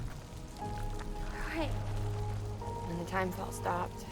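Steady hiss of timefall rain from the video game Death Stranding on PS4, a soft continuous wash under tonal game sounds and a voice talking over it.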